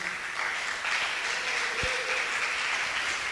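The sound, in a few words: congregation applause for Jesus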